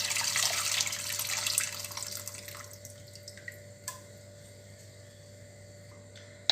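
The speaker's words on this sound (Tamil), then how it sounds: "இப்போ இதில் நம்ம தண்ணி ஊற்றிடலாம்" Tamarind water pours into a pan in a steady stream for the first few seconds, then tapers off into a few scattered drips and small clinks, close and fairly quiet over a faint background hum.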